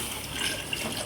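Water is poured into a cooking pot for rice, three bowlfuls of water added, giving a steady close rushing wash of liquid for about a second.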